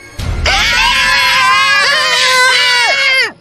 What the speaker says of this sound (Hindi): उस औरत को देखते ही उन तीनों की चीख निकल गई।